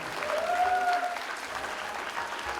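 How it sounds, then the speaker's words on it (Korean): Applause from an audience at an award certificate presentation during a small-business star competition ceremony, a steady clapping wash filling the whole clip with a faint tonal whistle early on. "박수와 함께 전달하겠습니다"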